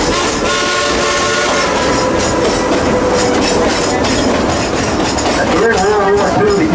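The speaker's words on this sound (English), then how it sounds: "is a genuine coal-fired steam-driven Type 282 locomotive" A coal-fired Type 282 steam locomotive rumbles along close by at Dollywood with loud chuffing and clattering wheels, a whistle tone rising near the end.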